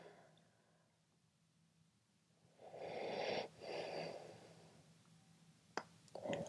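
Deep, slow breaths taken while holding a yoga chinstand balance on the chin, a quiet airy exhale swelling then fading twice in close succession, followed by a soft click and a faint start of another breath.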